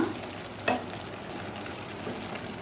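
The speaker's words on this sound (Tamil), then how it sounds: "நல்லா கிண்டிக்கிட்டே இருங்க" Carrot halwa frying and being stirred in milk in a pan, a steady soft sizzle with one brief sharp scrape of the spoon near the start, no voices.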